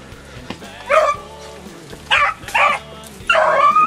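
Beagles on a rabbit hunt give several sharp, loud barks and yips close by, coming in short bursts separated by brief pauses.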